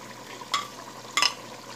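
Goat trotters fry in a pan with green chilies and whole cumin seeds for mutton paya. The sound is quiet, with two short bursts of stirring and sizzling about half a second apart.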